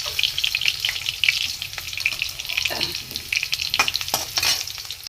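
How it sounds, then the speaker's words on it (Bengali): Potatoes fry in a pan of oil with a dense, crackling sizzle, interrupted by sharper pops and scraping stirs, close and loud throughout with no talking. "ওই যা তেল আছে আলুগুলো আমি ভেজে নেব"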